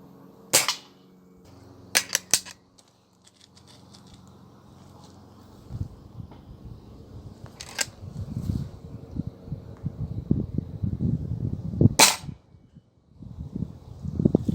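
A Swiss Arms break-barrel air rifle fires several sharp, close cracks spaced apart, with some handling and rustling noise between shots.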